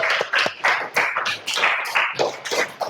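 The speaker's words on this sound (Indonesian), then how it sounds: "Tepuk tangan untuk kita semuanya." Classroom applause from primary school pupils after a group presentation, a brisk burst of many hands clapping close by, uneven and sustained throughout.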